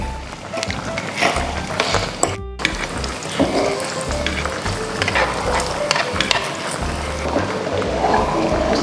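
Lard crackles and sizzles as it renders in a frying pan for carbonara, a dense steady frying hiss with sharp pops and a brief stir scrape, heard close up.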